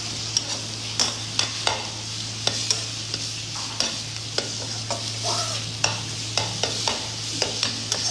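Egg being stirred in a frying pan for cheese paratha, with repeated scraping clicks of the spatula over a steady low sizzle and hum, close and moderately loud, no talking.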